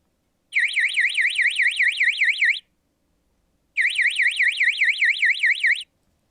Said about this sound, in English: you can forward an active alarm to an acoustic or visual signal indication